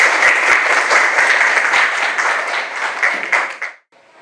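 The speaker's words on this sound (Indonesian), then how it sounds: "tepuk tangan untuk Ajeng dulu." Loud, close classroom applause during a genetics lesson, many students clapping briskly together for several seconds before it cuts off abruptly into near silence.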